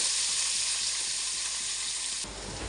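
Onion hitting hot oil with bay leaves in a home kitchen pan during chicken bhuna prep, a loud continuous sizzle and crackle that abruptly drops to a softer hiss near the end, with no talking.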